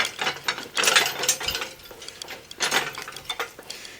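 Ratchet working on a strut coil spring compressor to release pressure, a series of close metallic clicks and clanks in irregular bursts, heard alone.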